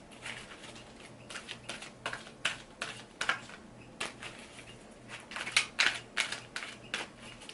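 A deck of crystal oracle cards being shuffled by hand, a close, quiet series of soft papery riffles and taps in an irregular rhythm with no talking.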